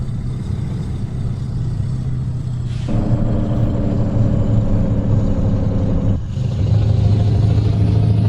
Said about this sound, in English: we are rolling with the V8 open pipe sound there with the Scania